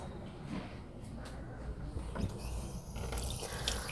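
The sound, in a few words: washing hands under running water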